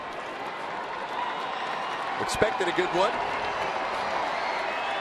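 Baseball crowd at a Padres home game against the Mets on a giveaway night, a steady broad wash of cheering and clapping with a brief swell in the middle, running under a commentator's voice.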